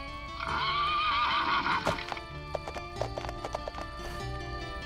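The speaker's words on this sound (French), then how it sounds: "c'est un cheval!" A horse whinnies loudly with a long wavering neigh, followed by a run of hoof clip-clops over a background of music.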